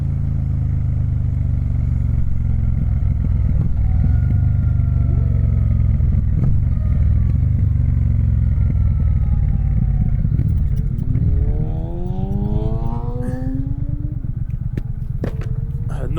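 A Triumph Speed Twin motorcycle engine runs steadily while riding, a loud continuous low drone that shifts pitch near the end as the revs change, with no talk over it.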